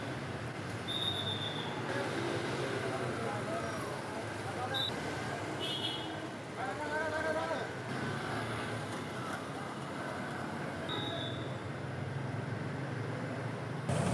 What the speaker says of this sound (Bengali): সকাল থেকে কমলাপুর স্টেশন ছেড়ে গেছে বেশ কয়েকটি ট্রেন